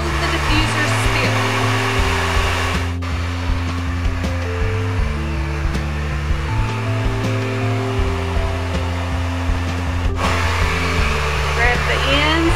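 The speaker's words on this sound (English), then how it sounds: "Hold the hair up, let the diffuser go in, hold the diffuser still." Hair dryer fitted with a diffuser attachment running steadily while drying hair, a loud continuous whirring drone with shifting tonal hum throughout, briefly dipping around a few points.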